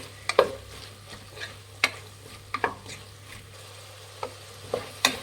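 Sliced tomatoes are stirred into a vegetable biryani mix in a pan: sparse spoon scrapes and clinks against the pan over a faint sizzle, close and unhurried.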